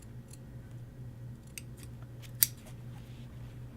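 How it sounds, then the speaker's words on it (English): Pinking shears snip the edge of a shirt collar band facing in a run of short, crisp cuts. One sharper snap stands out, and the room is otherwise quiet with no talking. "And so you'll come back with pinking shears"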